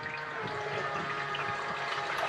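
Five gallons of fuel pour steadily from a can into the fuel tank of a boosted LSx-powered GTO, giving a close, continuous rushing gurgle.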